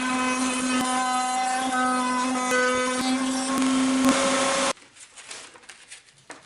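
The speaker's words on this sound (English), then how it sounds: "I used the router table to remove a fold underneath the play button." A router running on a router table, shaping a wooden play button, gives a loud steady high whine for about four and a half seconds, then cuts off abruptly, leaving only faint handling noise.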